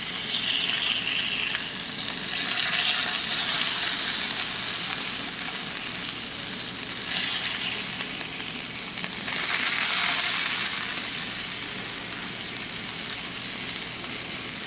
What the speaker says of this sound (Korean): 이제 삼겹살을 이렇게 후라이팬에 굽다 보면